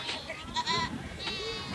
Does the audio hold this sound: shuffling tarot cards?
no